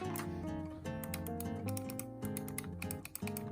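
Rapid, crisp clicks from a non-silent computer mouse tap along quickly and repeatedly, sounding close by over soft background music.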